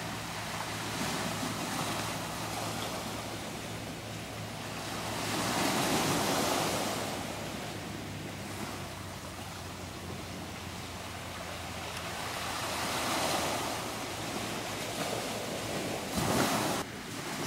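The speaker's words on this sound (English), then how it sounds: "See these waves?" Ocean surf rolls in along the coast near Sitka forest, a steady, fairly distant wash that swells and fades in slow surges under a wind-blown hiss.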